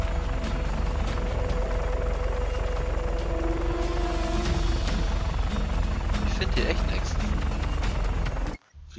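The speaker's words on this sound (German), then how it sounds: "Helikopterunterstützung nähert sich eurer Position." Helicopter in the video game Just Cause 3, a steady loud rotor drone with engine hum running continuously and close, mixed with game effects and music, cutting off abruptly near the end.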